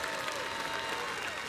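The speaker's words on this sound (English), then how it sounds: "Polite and appreciative applause." Polite, appreciative applause from the crowd at a World's Strongest Man event, a brief, even patter of clapping at moderate distance.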